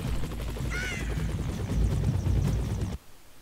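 Helicopter in the run-and-gun video game Broforce, a steady rotor drone and thump held loudly for about three seconds under a busy game soundscape, then cutting off abruptly.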